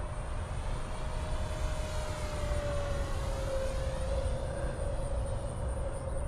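An FMS radio-controlled warbird model plane making a full-speed pass: a thin, steady engine whine that rises and then slides lower in pitch as it sweeps past over a constant outdoor rumble.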